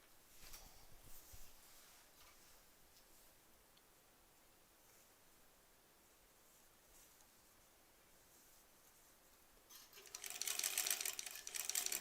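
A sewing machine stitches fabric curves for improv quilt piecing, faint and muffled at first, then a loud, rapid, even needle chatter rises near the end.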